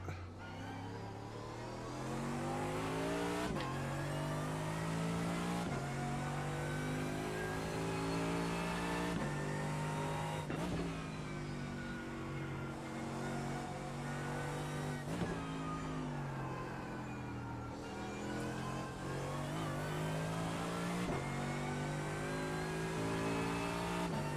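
A race car in iRacing at the Nürburgring, its engine revving steadily and climbing through gears with brief drops at each shift, loud and continuous throughout.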